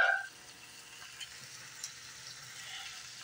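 Shrimp, chicken and rice sizzle in a hot iron skillet, a steady close frying hiss with a few faint pops, louder at the very start and then settling into a soft, even crackle.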